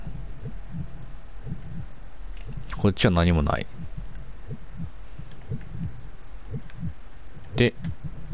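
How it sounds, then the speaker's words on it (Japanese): A heartbeat sound effect in the video game The Quiet Man thumps in a steady, regular double-beat rhythm throughout, low and muffled, while a person briefly speaks over it. "心臓がドキドキ言ってるんで"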